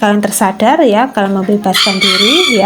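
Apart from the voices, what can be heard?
chicken crowing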